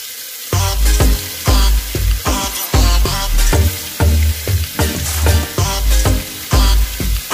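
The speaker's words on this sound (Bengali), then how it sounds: "কড়াইয়ের তেলটা গরম হয়ে এসেছে, এখন আমি মাছগুলো ছেড়ে দিচ্ছি" Rui fish pieces hit hot oil in a wok, producing loud, close crackling bursts that recur in a rough rhythm about twice a second over a continuous sizzle.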